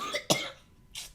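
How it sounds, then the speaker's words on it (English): Someone recovering from influenza lets out a short cough, a sharp close burst followed shortly by a fainter breathy second one, with no talking. "sorry if I do have to cough every now and then"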